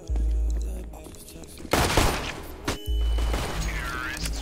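Loud bursts of gunfire in the video game CS:GO crack out in a couple of heavy volleys, with a voice heard around the shots.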